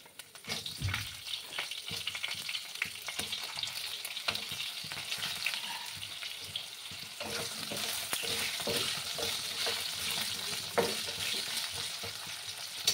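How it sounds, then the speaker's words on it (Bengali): Potato pieces fry with ginger and a pinch of turmeric in hot oil in a pan for a Bengali rui fish and ridge gourd curry. A steady, close sizzle runs throughout with occasional stirring scrapes and no talking. "আলুটাকে আমি প্রথমে একটু হালকা ভেজে রেখে নিচ্ছি।"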